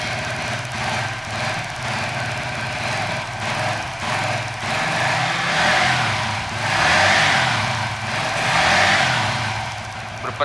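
A Suzuki FU 150 fuel-injected motorcycle with a bored-up engine, stock ECU and swapped injectors, revving at moderate speed, its buzzing engine note swelling and easing in several long pulls up close.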